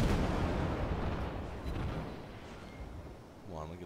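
Naval guns firing in the World of Warships video game, one heavy booming blast that rumbles and slowly decays, with a voice briefly heard near the end.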